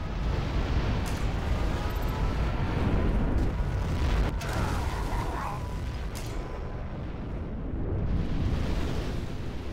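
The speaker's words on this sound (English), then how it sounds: "have launched our nuclear missile" Nuclear missile launch and detonation in the Command & Conquer Generals Zero Hour video game: a loud, continuous rumbling roar with deep booming low end that holds for several seconds, then slowly eases.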